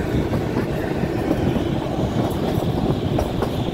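The Kalka–Shimla toy train runs through winding hill track, a loud close steady rumble of wheels and carriage noise with faint clickety-clack filling the whole moment.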